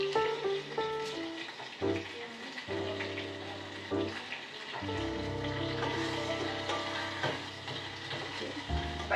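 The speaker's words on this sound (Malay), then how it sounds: "kita tambahkan 3 batang serai ketuk, daun limau purut dan asam pink ke dalam tumis tadi" Bruised lemongrass stalks, kaffir lime leaves and tamarind dropped into a chili sauté, sizzling and frying in the pan with stirring clatter, and the sizzle swelling louder partway through.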